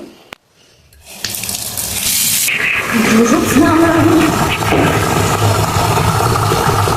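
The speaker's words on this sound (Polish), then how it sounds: "Naleję wodę." After a short clunk, a kitchen or bathroom tap opens and water gushes into a sink, a loud, steady rushing splash that continues for several seconds.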